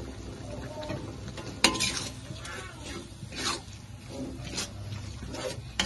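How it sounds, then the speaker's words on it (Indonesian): Galangal, lemongrass, bay leaves, turmeric and lime leaves, star anise, cardamom, cloves and cinnamon sautéing in a pan for Sumatran curry, heard as a soft sizzle with a spoon scraping and clinking now and then, close and fairly quiet. "Kita tumis sampai berbau harum, wangi ya."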